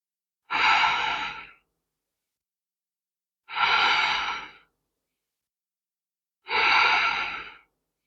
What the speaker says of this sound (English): exhale back and inhale up